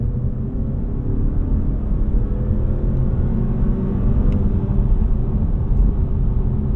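Engine of a 2025 Mazda3 2.5 S Carbon Edition AWD sedan accelerating from 35 to 60 mph, a steady low rumble that swells slightly as speed builds, heard from inside the cabin with road noise.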